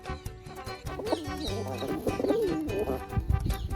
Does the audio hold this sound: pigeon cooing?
yes